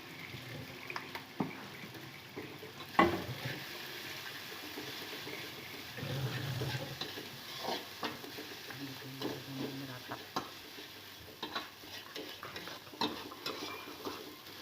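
Fried rice with spices and ketchup is stirred in a hot pan: steady scraping and clattering strokes over a soft, continuous sizzle, with an occasional clink of utensil on metal.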